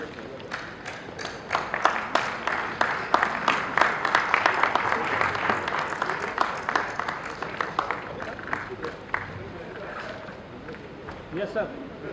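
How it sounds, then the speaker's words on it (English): An audience gives a round of applause after an inspirational speech, the clapping swelling to a lively peak near the middle and thinning toward the end, with some talk mixed in. "I think a big round of applause."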